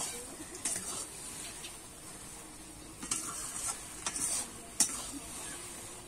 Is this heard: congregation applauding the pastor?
no